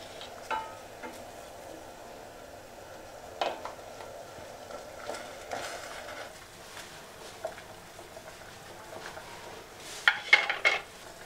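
Fried potato kalojam sweets drop one by one into a pan of boiling sugar syrup, heard as scattered soft clinks, thuds and light splashes at close range, ending in a cluster of sharper clatters.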